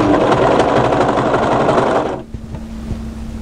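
An overlocker stitches a seam on a raglan swing sweater, whirring loud and fast for about two seconds before stopping abruptly, leaving a low motor hum.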